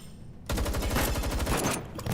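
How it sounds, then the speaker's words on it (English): A burst of gunfire sprays toward a squad of droids rushing into a lab in Girl's Frontline 2 Exilium. The rapid, steady stream of shots kicks in abruptly after a quiet start and continues to the end. "One sprays a burst of bullets towards the squad of droids, rushing in from outside the lab."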